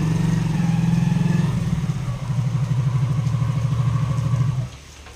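A motor vehicle rumbles past on a rainy road, its engine note steady and close for several seconds before fading abruptly, with no voices.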